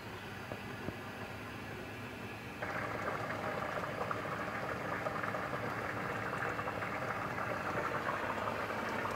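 Mango chutney bubbling gently in a covered pan, a steady low simmering hiss and soft bubbling that grows a little louder partway through and then holds steady, with no talking.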